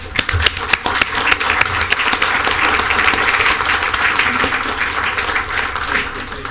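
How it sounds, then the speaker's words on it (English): Applause at a city commission meeting, a loud, sustained burst of many people clapping together in a hall, steady and dense from start to finish. "so we can give him a round of applause"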